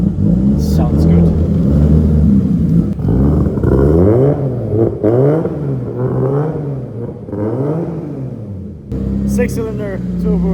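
A BMW E36 with a six-cylinder turbo engine revs and holds, the deep engine drone rising and falling in pitch, loud and close, with a short lull before climbing again.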